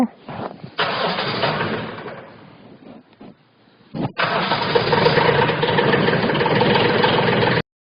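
2017 Mecron 2230 farm transporter engine cranking twice: a first attempt briefly catches and dies, then a second crank fires into a steady, loud rumbling idle before the engine cuts off abruptly.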